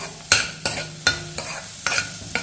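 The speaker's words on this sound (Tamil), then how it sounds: "இதை எல்லாத்தையும் நல்லா வதக்கிக்கிடுவோம்" Onion and green chili sauté in a hot pan, with a soft sizzle under six sharp, evenly spaced scrapes of a spoon stirring.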